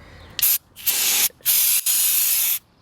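Aerosol brake cleaner sprayed onto the brake rotors of a 2007 Ford Focus SE during a pad replacement: four loud, close hissing bursts, each lasting around half a second to a second, with short gaps between them.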